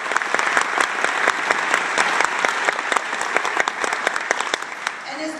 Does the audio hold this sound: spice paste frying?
no